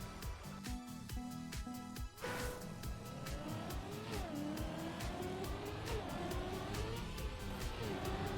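Race car revving and accelerating through a TrackMania course, a loud, busy engine whine rising and falling in pitch with quick gear-like shifts and a brief burst of noise early on, with no one talking.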